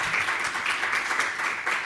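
Applause from an audience closing a medical device regulators' training session, a steady dense patter of clapping lasting the whole short stretch at moderate level.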